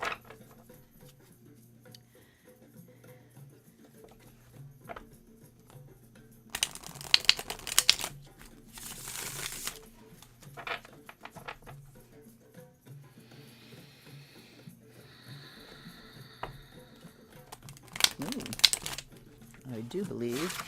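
Tarot cards shuffled during a live reading, with bursts of quick riffling and crinkling clicks that come and go under a faint background hum, with brief sounds of a voice and handling.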